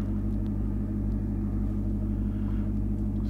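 A Corvette engine turns over and runs with a deep, constant low rumble, close and steady for a few seconds, no voices.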